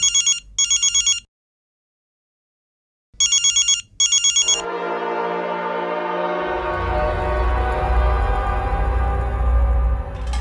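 A telephone rings in two short double bursts separated by a pause, loud and close, before a steady droning background sound takes over for the rest of the clip.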